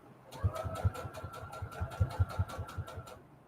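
Sewing machine stitching fabric hexagons together for a junk journal cover, quiet, with short uneven bursts of rapid needle thumps at close range over a low hum.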